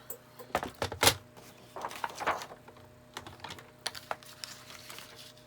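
A paper trimmer slices a pink paper panel for a birthday card, making a string of close clicks and short sliding swishes in a quiet room.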